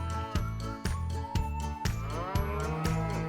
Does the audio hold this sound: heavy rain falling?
no